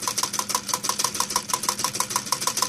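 A Hog Stirling engine drives a Wilesco steam accessory, giving a steady, fast mechanical clatter of evenly spaced ticks and knocks, close and moderately loud, with no voices.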